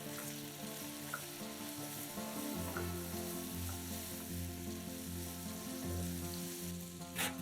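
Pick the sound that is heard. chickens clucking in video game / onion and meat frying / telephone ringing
onion and meat frying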